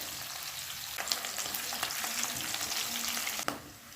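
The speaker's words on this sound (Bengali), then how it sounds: "আলুটা ভাজার সময় সামান্য পরিমাণে একটু হলুদ দিয়ে দিলাম।" Boiled potatoes with a little turmeric fry in oil over a high flame, giving a steady close sizzle with faint stirring scrapes and a sharp clatter near the end.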